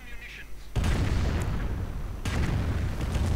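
A firestorm artillery barrage goes off in a war strategy video game, a dense rumbling roar of overlapping booms that bursts in and keeps rolling, with a second swell partway through.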